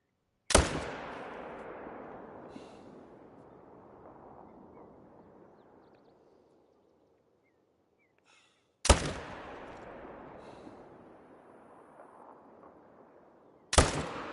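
Rifle shots fired at a black bear in a hunting video game: three sharp, loud gunshots spaced several seconds apart, each trailing off in a long rolling echo, with no talk.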